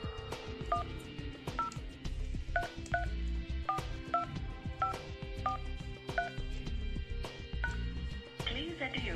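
Push-button tones from a phone system keypad dialing an international number, a steady series of short paired beeps in an even rhythm over a low background hum.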